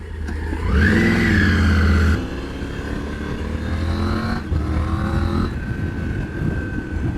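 A motorcycle engine drones steadily while riding, rising in pitch as it revs up through gears, loud and close without any talking.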